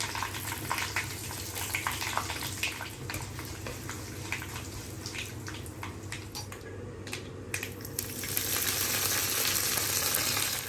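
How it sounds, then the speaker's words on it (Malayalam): Mustard seeds, two or three dried chillies and curry leaves dropped into hot coconut oil for bitter gourd kichadi, giving a loud, continuous frying hiss with scattered crackles and pops that swells toward the end. "വെളിച്ചെണ്ണ നന്നായി ചൂടായിട്ടുണ്ട്. 1 ടീസ്പൂൺ കടുക് ഇട്ട് കൊടുക്കാം."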